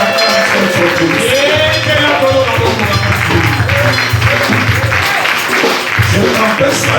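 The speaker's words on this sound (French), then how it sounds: "Lève-toi et acclame ton Dieu." Church congregation at a Sunday service applauds and acclaims God, loud, sustained clapping and cheering from a nearby crowd with shouting voices and a low musical hum underneath.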